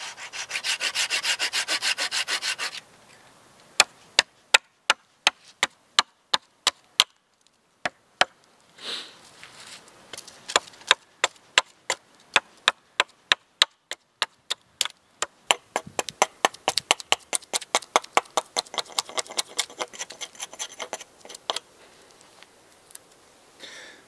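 A knife or saw cuts a stop cut into a tree trunk in the snow while a shelter is being built, with rapid rasping strokes at first, then a long series of sharp, evenly spaced chopping knocks, close and loud, without speech.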